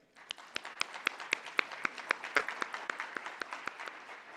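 A round of audience applause for a conference speaker, with distinct individual claps standing out sharply over a softer bed of crowd clapping, steady and fairly close throughout.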